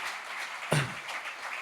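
A church congregation gives applause to the Lord during a bilingual sermon, an even stretch of clapping broken by a brief sharp shout or vocal burst partway through.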